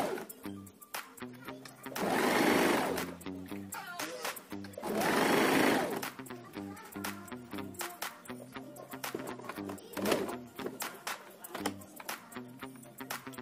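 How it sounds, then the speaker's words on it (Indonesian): Sewing machine stitching around the bottom hem of an instant hijab, two sustained whirring runs of rapid stitching with quieter clicking and handling between them. "Dan yang terakhir tinggal kita jahit keliling untuk bagian bawahnya biar terlihat"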